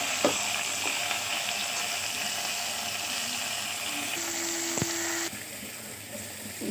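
Tomatoes and grated coconut sauté in a hot pan for a kurma, giving a steady, close sizzle with a brief spoon scrape near the middle; the hiss softens slightly toward the end.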